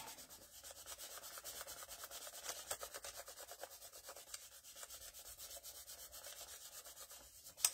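Steady rubbing of an image transfer on plain, untreated 120 lb cardstock, a continuous close scratchy friction in fast strokes with no talk, ending in a brief sharp tick.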